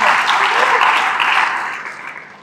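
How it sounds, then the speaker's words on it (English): A church congregation claps together in a sustained, dense burst of applause during a sermon. The clapping is loud and close, holding steady before easing off toward the end. "let's give the Lord a clap offering for that"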